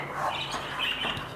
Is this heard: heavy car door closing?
no